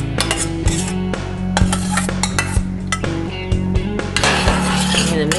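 Cooked barley being stirred into the braising liquid from short ribs in a pot, with steady clinks and scrapes of a spoon against the pan over a continuous low simmering background, close and fairly loud.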